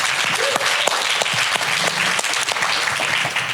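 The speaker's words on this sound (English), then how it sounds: "Big round of applause for Betty Bergstrand." A live podcast audience gives a round of applause for a guest, steady dense clapping up close that holds at one level throughout, with no voices over it.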